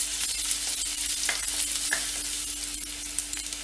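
Chopped garlic fries in a pan for restaurant-style butter chicken, giving a steady close sizzle with occasional crackles and light stirring scrapes throughout.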